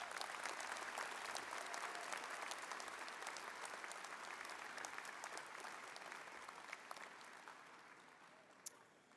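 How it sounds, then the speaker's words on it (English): Engineering graduate commencement audience giving staff a round of applause, a broad, even wash of many hands clapping that slowly tapers toward the end. "Let's give them yet another round of applause."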